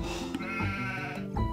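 Sheep in Age of Empires II bleat in a short, wavering call with a bright harmonic tone, close and clear, followed by a second brief bleat near the end.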